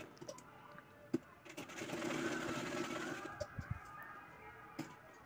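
A sewing machine stitches a boy's Paithani silk jacket lining, running in a steady mid-level whir for a couple of seconds between short clicks and handling noises, with quiet pauses before and after.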